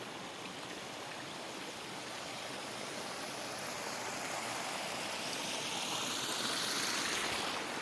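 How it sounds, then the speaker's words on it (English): The front waterfall of a freshly built garden pond pours steadily, a dense, broad rushing splash heard close and alone, swelling slightly louder as it is approached. "Let's just take you over here to the front waterfall."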